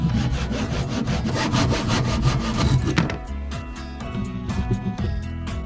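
A hand saw cuts at an angle through a piece of wood braced steady, giving quick rhythmic rasping strokes that are loud and close, then a brief slower stretch of finer scraping near the end.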